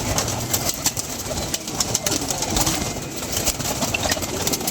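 Pigeons at a rooftop loft give soft, scattered coos within constant breezy outdoor noise and faint flutters, with no clear talking.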